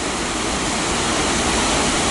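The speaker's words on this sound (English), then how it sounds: "As you can see how much water is above it, just ripping down" Halfmoon Creek near Leadville, Colorado, rushes hard over rocks, a steady, loud, full roar of mountain water with no voices.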